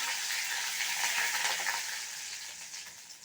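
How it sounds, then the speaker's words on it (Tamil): Dense crackling and spluttering of mustard seeds popping in hot oil, steady and close, gradually easing off toward the end. "கடுகு நல்லா வெடிச்சுடுது"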